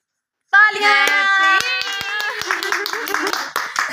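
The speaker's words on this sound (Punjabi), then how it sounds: "ਤਾਲੀਆਂ" Clapping at a children's birthday celebration in a village home, sharp hand claps under loud singing and children's voices, starting abruptly and continuing unevenly.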